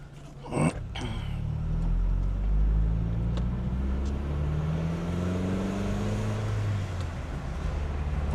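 A 2001 Nissan Silvia S15 Spec S L Package drives smoothly through the gears from inside the cabin, its engine a low steady hum that rises in pitch and drops at each shift, with a brief thump near the start.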